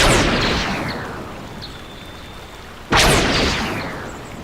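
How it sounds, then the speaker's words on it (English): Two loud power blast shots from a Star Wars Knights of the Old Republic mod, each a sharp crack followed by a long decaying whoosh, the second arriving about three seconds after the first. "And the power blast sound."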